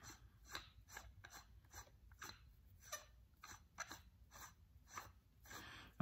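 The threaded handle of a lightsaber hilt is screwed on by hand, making a quiet, close series of rhythmic scraping, clicking thread turns.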